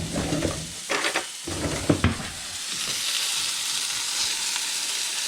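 A fork whisking a basic gravy base for venison stew, scraping quickly in a pot amid steady frying sizzle, with a few sharper clinks of metal against the pan.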